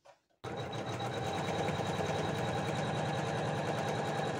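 An embroidery machine sews the final finishing seam on a dish towel holder, its fast, even needle chatter starting abruptly after a brief quiet moment and running loud and unbroken to the end.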